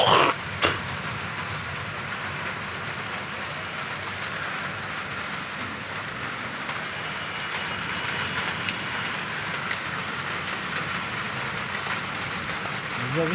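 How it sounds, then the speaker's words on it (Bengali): Rain falls steadily on a rooftop garden with papaya and pomegranate plants, producing an even, continuous hiss with a few louder knocks at the start. "বৃষ্টি দেয়"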